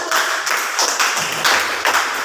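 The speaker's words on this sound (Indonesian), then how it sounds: "Tepuk tangan dulu untuk kelompok 1." A classroom of junior high students claps for the first group of presenters, a burst of applause with several uneven swells and taps over roughly two seconds, close and fairly loud.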